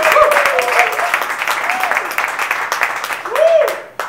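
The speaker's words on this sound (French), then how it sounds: "je vais vous demander de l'applaudir de façon déchaînée" A hip hop brunch crowd applauds and cheers an arriving guest, a lively burst of clapping with whoops and excited voices rising and falling near the mic.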